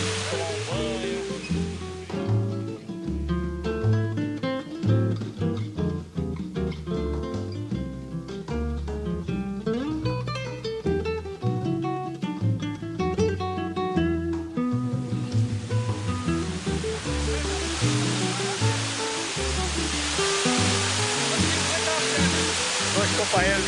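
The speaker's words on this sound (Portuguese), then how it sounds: "Essa cachoeira aqui já é mais tranquila." A calm waterfall at Cachoeira do Sobe e Desce in Miracatu: music plays over the first part, then a steady, dense rushing of falling water fills the rest, close and continuous.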